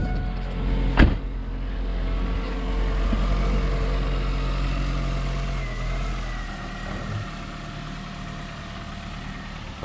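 A cheap $150 car idles and runs with a steady low engine drone, a sharp knock near the start and faint mechanical whine throughout, no voices.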